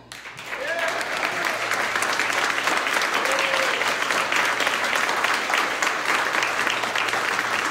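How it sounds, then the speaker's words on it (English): A stand-up comedy audience in Kentucky gives a big round of applause for the comedian's mother, clapping swelling quickly and staying steady and full, with a few whoops near the start. "big round of applause for my mom"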